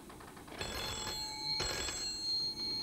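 A telephone at a hi-fi equipment company's sales office rings with an incoming order call, two bursts of bell ringing over a steady hiss, heard alone without voices.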